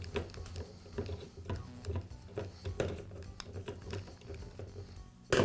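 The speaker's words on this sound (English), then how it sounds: "remove the two screws that connect the motor to the gearbox" Small fasteners being worked loose on a Milwaukee Hackzall reciprocating saw, unscrewing the two screws joining the motor to the gearbox: faint close-up ticks, scrapes and light mechanical clatter in an otherwise quiet room, ending in a sharper knock.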